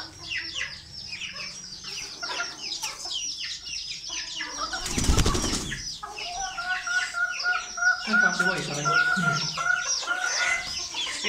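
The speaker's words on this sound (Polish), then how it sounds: "To jest ta kurka z wystawy, co była na wystawie." A hen bought at a poultry exhibition clucks repeatedly amid other nearby chickens. A short burst of wing flapping comes midway, and low, steady clucking continues afterward.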